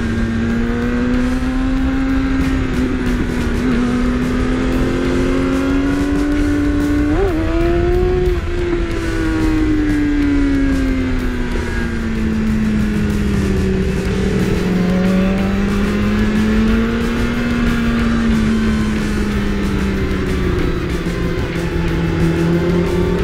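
A BMW S1000R motorcycle engine held in first gear drones loudly and steadily close up, its pitch rising and falling as the throttle eases on and off throughout.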